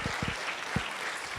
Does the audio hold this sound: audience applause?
yes